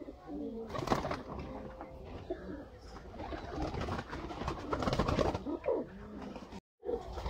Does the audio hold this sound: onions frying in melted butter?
no